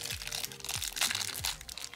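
Someone opens a small plastic packet from an L.O.L. Surprise Pearl toy, with close crinkling and crunching of thin plastic. A few sharper crackles come in quick bursts, with no talk.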